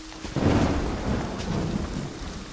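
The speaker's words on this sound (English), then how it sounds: "it's thunder and lightning outside" Thunder rolls low and heavy over steady rain pattering on surfaces outside a house in Friday the 13th: The Game, a close rumbling swell that lingers under continuous rainfall.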